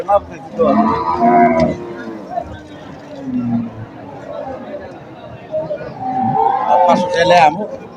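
Cows at a weekly village cattle market moo loudly several times, long drawn calls close by, amid background chatter of the crowd.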